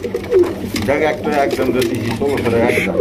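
Pigeons at a bird market coo in repeated soft, throaty rolls close by, mixed in with people talking.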